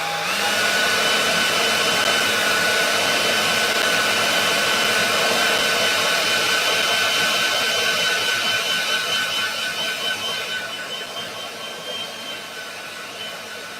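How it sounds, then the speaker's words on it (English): A handheld hairdryer blows steadily on a freshly painted craft bowl, a loud close broadband whoosh that holds for several seconds before easing slightly toward the end, with no voices. "so here comes the hairdryer"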